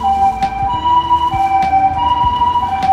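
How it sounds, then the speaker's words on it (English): An ambulance siren in Tokyo wails with a steady two-tone pattern, loud and fairly near, over the low rumble of traffic. "Oh, ambulance, I think."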